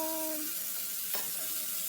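Steady hissing sizzle of meatballs frying in hot oil, close and continuous, with a brief faint tone fading out at the start.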